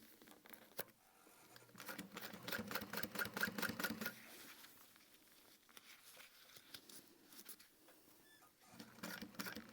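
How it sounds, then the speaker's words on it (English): A sewing machine runs slowly around a crossbody bag lining, giving quiet rapid stitching bursts in a soft patter, strongest for a couple of seconds then fading to a faint rustle. "But I'm just slowly sewing around."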